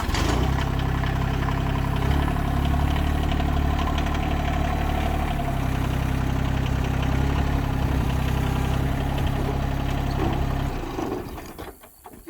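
A tractor engine idles steadily with a deep, loud, continuous rumble before cutting off near the end, with no talking.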